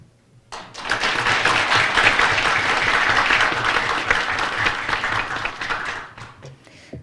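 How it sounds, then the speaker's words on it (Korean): Loud, dense applause from a seated audience of about fifty greets a Democratic presidential candidate at a policy forum launch, rising quickly, holding steady for several seconds and then tapering off. "소개해드릴 때마다 여러분께서는 큰 박수로 맞이해 주시기 바랍니다"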